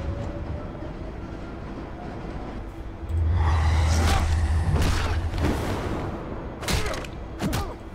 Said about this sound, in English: Train's ready! Move up!